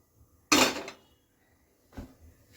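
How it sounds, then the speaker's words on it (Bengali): A pressure cooker set down on a gas stove burner while making vegetable khichdi, one sharp metallic clank followed by a softer second knock, close and alone. "গ্যাসটা ধরিয়ে দিলাম, এর মধ্যে প্রেসার কুকারটা বসিয়ে দিলাম।"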